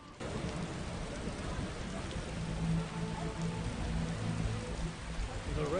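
Rain in The Witcher game's Vizima Temple Quarter, a steady dense hiss of falling rain under faint ambient tones and low hum, continuous and even throughout.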